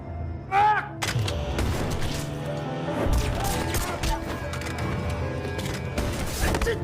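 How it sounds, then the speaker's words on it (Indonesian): Sharp gunshots crack out in an action film scene, with a few loud reports cutting through a dense mix of dramatic music, crashes and raised voices. "Han yang bangkit lalu mengambil senjata dan menembak Nobleman"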